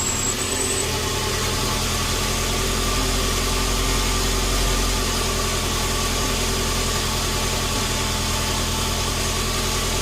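A Ford XR2 turbo engine running on test carburetors, a loud, steady, close mechanical drone with even vibration throughout and no talk.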